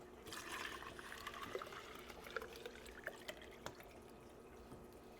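Salt water is poured into a container for hatching brine shrimp, a soft, quiet trickling and splashing with small drips and plinks.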